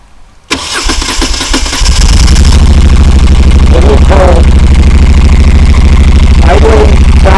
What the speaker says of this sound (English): here we're going to start it up so you can hear the exhaust.